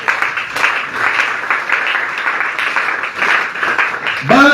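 A church congregation claps and cheers together, a broad, steady wash of applause filling the room throughout, loud and sustained, with a brief rising voice breaking through near the end.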